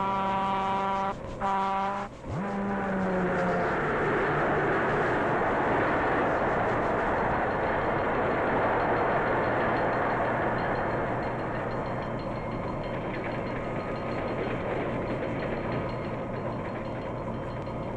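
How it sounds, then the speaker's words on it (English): A passenger train runs on rails in a vintage travelogue film, a steady loud rumble that fills the whole stretch after a brief tonal blast at the start. "closes the throttle to slow down the train, for a sharp curve is just ahead"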